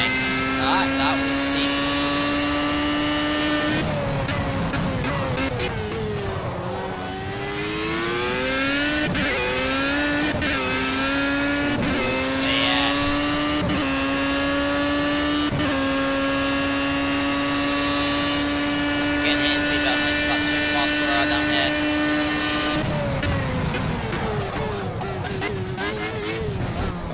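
A Formula A race car on the Hockenheim circuit in Project Cars on Xbox One screams loudly, its high engine pitch climbing and dropping through sharp gear shifts as it brakes and accelerates through corners, with someone talking briefly at the start and end.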